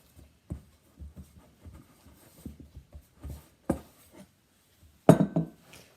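Chelsea bun dough being scraped out of a mixing bowl makes sparse scraping and knocking sounds, irregular taps and a few louder clatters, with no talking.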